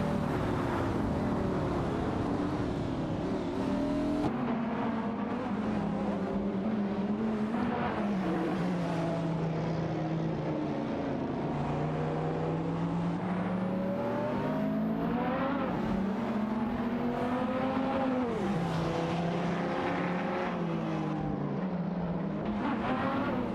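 Racing car engines in a video game race featuring a Dodge Viper SRT and a Mosler, a continuous drone of revving engines rising and falling through gear changes, several cars overlapping, with no talking.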